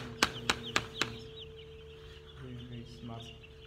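Young broiler chicks in a barn holding about 1,500 birds give a few sharp, evenly spaced peeps at the start, then faint scattered cheeps over a steady low hum, with a voice speaking softly.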